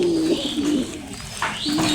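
A pet pigeon, a black bird kept in a backyard loft, coos in a few repeated low rolling phrases, fairly close, with faint background noise.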